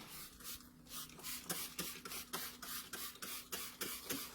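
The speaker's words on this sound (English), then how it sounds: "Oh, now she's spraying again." Repeated short bursts of epoxy spray hiss during a kitchen makeover, pulsing in a steady rhythm over a quiet hum, fairly close.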